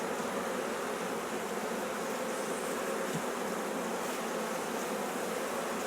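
Honeybees swarm over a frame lifted from an eight-frame deep hive on a farm, making a steady, close, dense buzz that holds throughout with no talking.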